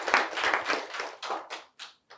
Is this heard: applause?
yes